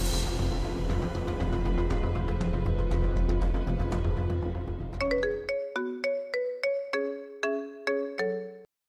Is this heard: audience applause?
no